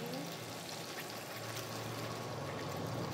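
A ground spice mixture goes into a pan on the flame while cooking dhaba-style egg and potato curry, giving a steady, continuous pouring hiss that lasts throughout at moderate loudness.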